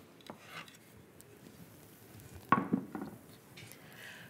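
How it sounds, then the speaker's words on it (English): Potatoes being set into an oiled baking pan, with soft scraping and a sharper clatter midway as they are pushed snugly into place, close and fairly quiet. "I'm just getting some olive oil in the baking pan, and let me just get these in."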